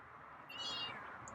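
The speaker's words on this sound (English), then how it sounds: "Oh, hey, there's a meow." A feral cat gives a single drawn-out meow, close and fairly loud, over a quiet room hiss.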